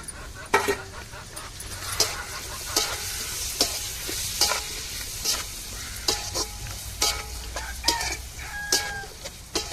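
Onion being stir-fried with cabbage and capsicum in a pan for prawn fried rice, loud continuous sizzling with rhythmic spatula scrapes, a rooster crowing and a voice in the background.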